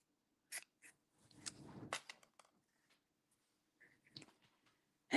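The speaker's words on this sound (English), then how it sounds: "I'm going to cut 2 pieces like this" Paper pieces are cut for a craft project, with a few short crisp snips and rustling paper handling spaced out against near silence, close and quiet.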